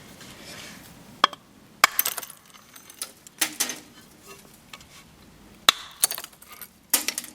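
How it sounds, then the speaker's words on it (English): A special slate hammer punches holes in roof slate during a cabin roof build, giving about seven sharp, bright strikes at irregular intervals with brief ringing clinks, close and alone over a quiet background. "This is a special slate hammer."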